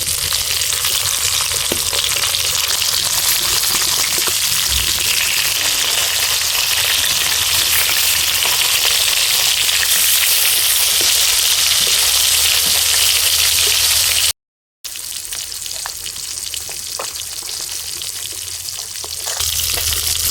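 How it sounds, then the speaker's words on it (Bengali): Rohu fish pieces frying in a pan, a continuous loud, close sizzle with crackling spatter that holds steady throughout, briefly cut by a moment of silence before resuming. "মাছ আমি এখানে খুব বেশি কড়া করে ভাজবো না, 2-3 মিনিট ভাজার পরেই মাছটা পাল্টে দেব"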